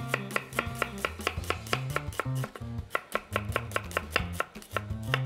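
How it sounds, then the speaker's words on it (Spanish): A knife chops onion quickly on a board, a fast steady run of sharp close knocks with no one talking. "yo termino de picar esta cebolla"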